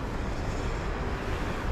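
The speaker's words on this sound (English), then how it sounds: "I came down to the Poprad River" Steady rushing water of the Poprad River spilling over a set of town weirs, a continuous broadband roar with some wind buffeting, no voices.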